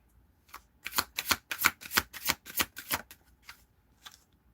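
Tarot cards are riffled and shuffled in a quick run of about a dozen crisp, close flutters, followed by a couple of softer taps, with no one speaking.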